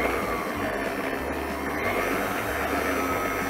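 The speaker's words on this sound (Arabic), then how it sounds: "ونبدأ نشغل العجان" Dough kneading machine running while mixing flour, salt and warm water for meat sfiha dough, a steady droning motor hum that goes on throughout with no pauses.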